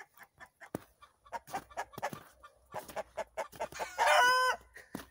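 Hens clucking in quick, irregular bursts close by around egg-laying, with one hen rising into a loud, drawn-out cackle near the end.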